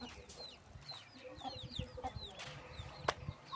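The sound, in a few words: chickens clucking while being fed grain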